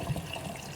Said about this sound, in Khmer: ចឹងខ្ញុំចាក់ទឹកដូងចូល